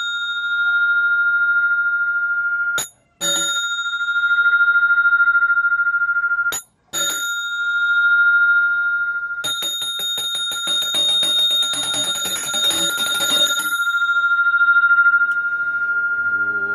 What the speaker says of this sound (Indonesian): Dentingan genta dan alunan doa yang terucap dari pendeta Hindu di Bali